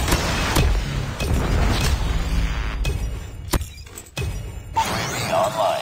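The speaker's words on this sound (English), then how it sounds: "missile inbound." A missile strike explosion in Call of Duty Mobile, a loud, sustained booming blast with heavy low rumble and crackling debris that keeps roaring for several seconds, then thins out into scattered thuds.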